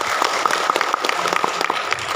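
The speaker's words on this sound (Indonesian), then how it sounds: "Tepuk tangan untuk kita semua" An audience at a school program evaluation event in Garut claps together, a steady moderate patter of many hands heard from a short distance with no voices over it.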